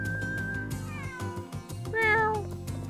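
A cat in the video game Suikoden V gives two drawn-out meows over a soft game soundtrack, the second rising and louder, both near and clear with no talking.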